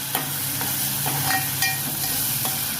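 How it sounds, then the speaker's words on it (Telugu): Onions and tomato sizzle steadily in a hot pan while being stirred, the spoon clicking against the pan every half second or so over a continuous close frying hiss, with no talking. "ఉల్లిపాయలు కలర్ వచ్చేదాకా వేసుకోవాలి సో టమాటా టమాటా పేస్ట్ కింద వేసుకొస్తాం"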